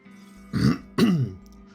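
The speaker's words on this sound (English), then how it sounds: "Sorry if I'm clearing my throat a lot" Two short, throaty clearing sounds in quick succession, close and moderately loud, against a quiet background hum.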